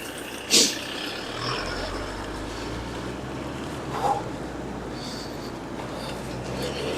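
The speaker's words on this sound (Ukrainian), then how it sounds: "Чуємо, як машини тут їздять." Cars and trucks pass on a city street, steady road rumble with a brief loud hiss like an air brake near the start and another vehicle swelling past midway, fairly distant traffic ambience.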